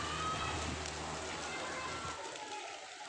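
Soft steady patter of light rain falls for a few seconds, fading quieter toward the end.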